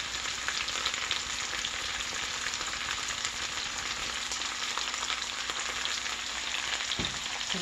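Garlic, thyme and seasonings fry steadily in a pan as the base for a potato corn chowder, a dense continuous sizzle with faint crackles that stays even throughout and ends with a couple of soft clunks.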